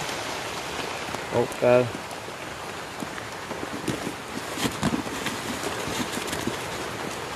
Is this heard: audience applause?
no